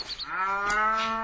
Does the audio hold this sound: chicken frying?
no